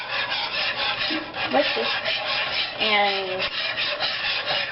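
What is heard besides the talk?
whisking white gravy in a pan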